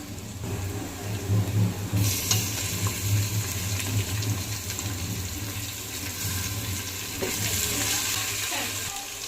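Spices and tomatoes frying in a pan for prawn biryani, a steady close sizzle running throughout with occasional stirring clatter and no talk.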